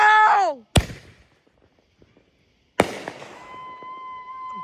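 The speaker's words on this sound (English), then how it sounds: "Cul-de-sac, fireworks." Two loud, sharp firework blasts several seconds apart in a cul-de-sac, each with a crackling tail, the second fading into a lingering whistle-like ring; a high whistling screech precedes the first bang.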